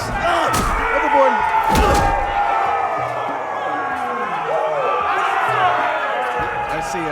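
Crowd murmur and shouting in the Telltale Game of Thrones video game, with loud thuds and slams standing out over a busy, steady background of voices.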